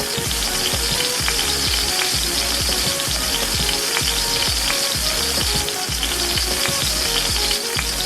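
Chicken stir fry for noodles sizzles loudly and steadily in hot oil while being stirred, with frequent clicks and scrapes of a utensil against the pan throughout.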